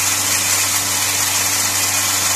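A Volkswagen Lupo 1.0i three-cylinder engine held at high revs during a decarbonizing treatment, a continuous loud drone mixed with harsh hissing noise, close and steady throughout with no talking.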